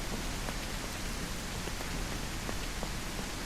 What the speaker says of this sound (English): The rain looks like it's lessening a little bit